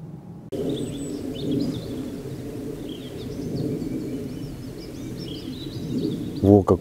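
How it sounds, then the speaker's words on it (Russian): Birds sing in a spring evening forest, with scattered chirps and whistles over a soft, continuous low background. A brief, louder sound comes near the end. "Во, как птицы разговорились,"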